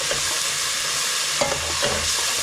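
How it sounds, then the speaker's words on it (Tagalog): Oyster sauce sautés in a pan with a dense, even sizzle, and a couple of quick stirring scrapes sound just after the midpoint. "Pag ginisa yung oyster sauce, kasi merong yan may brown sugar."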